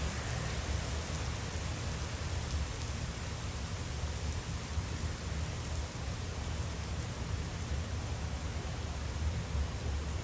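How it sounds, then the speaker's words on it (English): Steady rain falling and growing heavier outdoors near a lake, a dense continuous hiss with low rumble, no voices. "starting to rain a little bit heavier."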